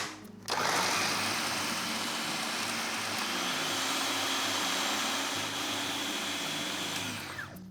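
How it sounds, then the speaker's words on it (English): A food processor whizzing goulash ingredients, including a full head of garlic, with a loud, steady, high whirring roar that starts abruptly and winds down at the end, with no talking. "And then they go into the food processor."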